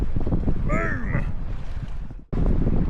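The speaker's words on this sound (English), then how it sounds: "But super, super windy" Strong wind buffets the microphone on a fishing boat on Chickamauga Lake, a loud steady roar with a brief whistling tone, cutting out for a moment before the roar returns.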